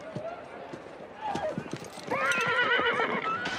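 Racehorses being led into the starting stalls before a race, hooves clopping and thudding with a horse whinnying loudly, close by, while a commentator talks over it.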